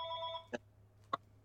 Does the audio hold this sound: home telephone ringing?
yes